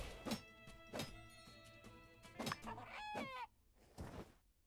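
A rooster crows in the video game Sandrock, with synthetic, harmonic crowing bursts repeating about four times alongside thunky impact hits, loud and close with no talk.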